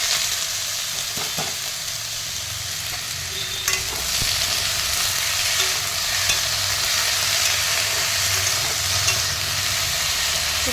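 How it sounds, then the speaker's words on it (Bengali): Whole cumin seeds fry in very hot oil while being stirred lightly, producing a steady, close, dense sizzle with occasional scraping clinks and no talk. "তেলটা গরম হয়ে গেছে দেখো একটু গোটা জিরে ফোড়ন দিয়ে দিলাম একটু হালকা নাড়াচাড়া করি"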